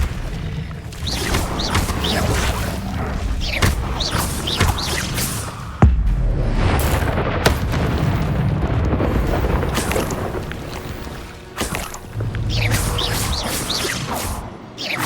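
Fiery Incendio spell blasts in Hogwarts Legacy combat thud and roar in repeated loud bursts over a churning, windy battle din, with one sharp impact midway and no voices.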